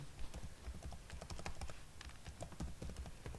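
Computer keyboard keys are typed in quick, irregular bursts of light clicks, fairly faint and close, with no talking.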